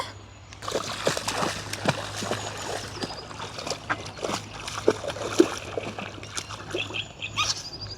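A ball thrown into water for a dog lands with splashes, followed by sloshing and scattered water sounds up close.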